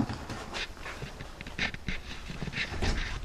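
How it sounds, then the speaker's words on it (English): A dog panting and whimpering softly in a dark garage, quick breathy pants repeating at close range with no talking. "My dog gets in more trouble."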